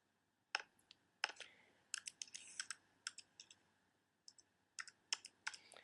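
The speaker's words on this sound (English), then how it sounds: "go ahead and type in your name and your social security number down below" Someone types a name and social security number on a computer keyboard, producing quiet, close clicks in short irregular bursts separated by brief pauses.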